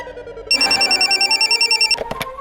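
A telephone rings nearby, one loud warbling trill lasting over a second, followed by a couple of short sharp clicks; no one speaks.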